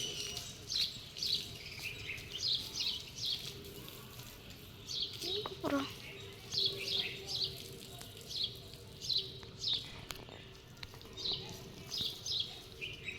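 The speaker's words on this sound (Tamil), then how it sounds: "நல்லா குயில் சத்தம் மயில் சத்தத்தோட" Repeated bursts of bird calls, attributed to a cuckoo and a peacock, ring out at a steady rhythm against a quiet outdoor background. One sweeping call rises briefly above the others.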